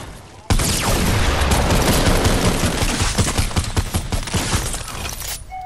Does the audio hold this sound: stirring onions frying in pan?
no